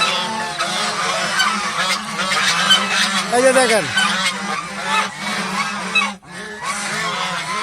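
Domestic geese brooding goslings on nests honk in a loud, near, overlapping clamor of harsh nasal calls, with someone briefly talking among them.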